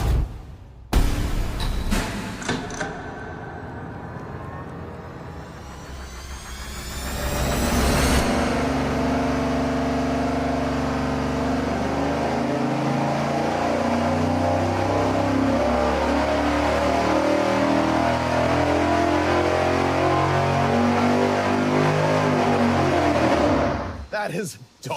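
A 454 big block Chevy engine fitted with a Speedmaster intake runs on a dyno, starting with a crank and sharp revs, then pulling hard in a long loud sweep and cutting off at the end.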